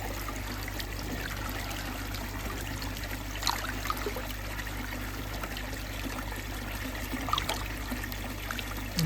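Pond treatment poured into a backyard garden pond, a steady soft trickle and gurgle of liquid into water running the whole time, with faint outdoor background and no talking.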